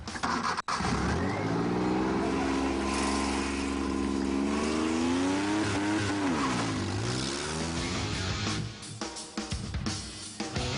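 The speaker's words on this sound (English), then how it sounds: "We've kind of had a basic look at the car, so shall we put it to good use?" A single-seat car drives off, its engine revving loud and steady with rising and falling pitch as it accelerates away, continuous for about ten seconds.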